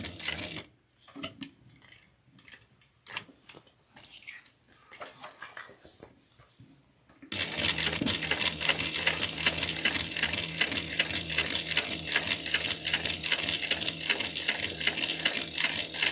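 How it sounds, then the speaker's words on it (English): Sewing machine stitching a clutch wallet with a skinny presser foot, a few slow hand-turned clicks and pauses, then a loud, fast, steady mechanical whir of continuous stitching up close. "I just always sew with the skinny foot"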